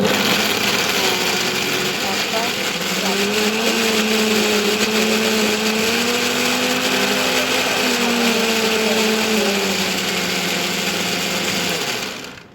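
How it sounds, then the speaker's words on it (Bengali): An electric kitchen mixer grinder whirs loudly and continuously for several seconds, blending fried pointed gourd into a paste, its motor pitch wavering slightly before cutting off at the end. "তারপরে মিক্সিতে বসিয়ে দিয়েছি"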